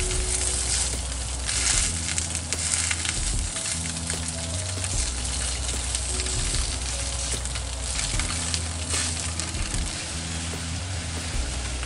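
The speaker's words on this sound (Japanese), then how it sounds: "これを鉄のフライパンで焼き目をつけて仕上げると美味しいです" Food sears in an iron frying pan with a dense, steady sizzle and frying crackle, loud and close throughout, with no talking.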